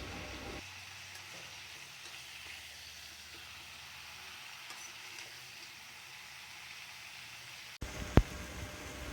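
Mango pieces frying in a pan produce a low, even hiss of sizzling that runs steadily, ending in a sudden sharp clatter near the close.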